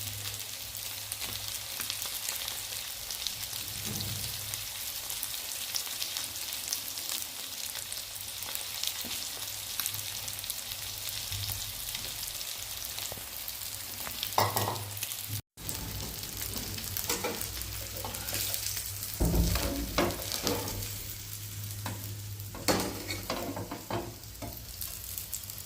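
Fish pieces fry in hot oil in a loud, continuous sizzle that runs the whole time. Occasional crackles and clinks of a utensil break through, including a brief dropout partway.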